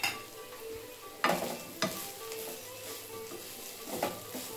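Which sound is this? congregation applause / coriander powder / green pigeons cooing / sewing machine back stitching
coriander powder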